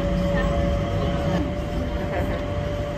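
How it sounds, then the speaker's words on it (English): Airport terminal train moving between gates, a steady loud rail rumble with a constant tonal whine throughout, alone without talk. "So we will go down on the train."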